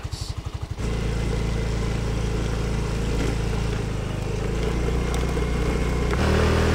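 A scooter on Koh Kood island sputters with a few rhythmic cranking pulses, then the engine catches and settles into a steady close idle and pulls away, rising slightly in pitch near the end, no talk.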